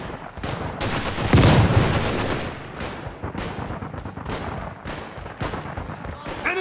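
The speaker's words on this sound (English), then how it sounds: "Flashbang!" In the Caliber first-person shooter game, a flashbang grenade goes off with a loud close boom, followed by repeated bursts of gunfire and heavy impacts in a busy firefight.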